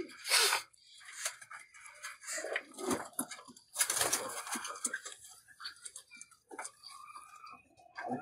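Pigeons kept in a loft, including tailed birds of the Teddy type, give soft cooing and fluttering calls at close range alongside scattered ticking and shuffling sounds, in irregular bursts with quiet gaps.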